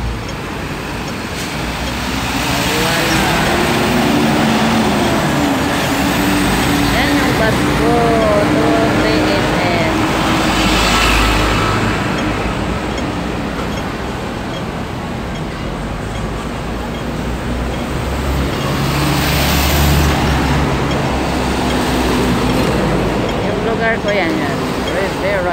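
Continuous roar of highway traffic in fine weather, a broad steady rush of passing cars that swells and eases, with a voice talking over it.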